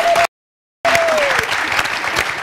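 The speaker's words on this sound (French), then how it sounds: "cette dame d'être rayonnante, brillante, enthousiaste ce matin que je vous prie d'applaudir très fort" A TV studio audience breaks into loud, sustained applause that fills the room, briefly cut out before resuming, with a faint tonal ring sliding down underneath.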